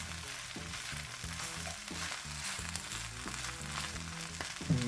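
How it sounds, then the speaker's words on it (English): Cooked egg stirred into fried rice in a hot pan, a soft steady sizzle broken by repeated scraping and stirring strokes at a quiet level, with no voices. "Now what I'm going to do is basically just stir them into the rest of the rice"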